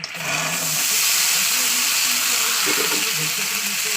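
Chickpeas hit a hot pan and fry with a loud, steady hissing sizzle that swells in the first moment and holds evenly, with faint voice-like sounds underneath.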